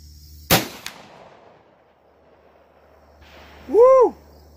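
One loud, sharp 12-gauge shotgun blast firing a Remington Slugger 1-ounce rifled slug from a 2¾-inch shell outdoors, followed by a brief echo and quiet, then a short whooping voice.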